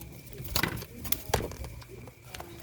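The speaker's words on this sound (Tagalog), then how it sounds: "Ang kalapati ng pinsan ko." A pet pigeon named Luna coos several times in soft, throaty bursts, with faint wing shuffles and light background noise around it.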